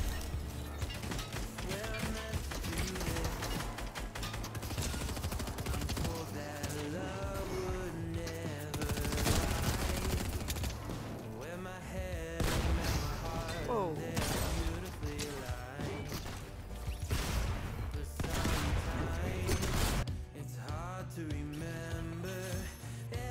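Gunfire in the battle royale game Fortnite, with an assault rifle in play: rapid shots and bursts stacked with crashes and game effects throughout, while players talk over the action.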